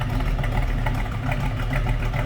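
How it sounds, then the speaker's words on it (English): A 1968 Chevrolet C10 Stepside pickup idles with a deep, steady rumble from its dual exhaust, even and unbroken throughout. "take a listen to that dual exhaust"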